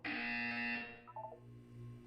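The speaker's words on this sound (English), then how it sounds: "When you hear the buzzer, look down at the floor." A buzzer in the video game Portal 2 blares as a loud, harsh tone for under a second, then a few short electronic blips follow over a low steady hum.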